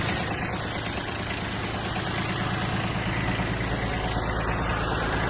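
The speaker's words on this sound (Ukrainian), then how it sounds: "Поки тракторець прогрівається" A Kubota A-195 Japanese mini tractor engine idling while warming up at close range, a continuous low rumble with a faint rhythmic knock and no voices, unchanged throughout.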